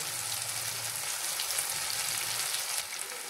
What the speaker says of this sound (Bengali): এবার আমি একটু হিং দেবো। হিং দিয়ে দিলাম।